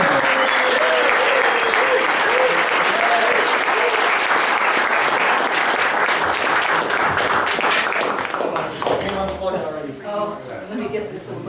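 A crowd applauds and cheers for a live band's performance, a dense, steady wash of clapping close by that thins slightly toward the end.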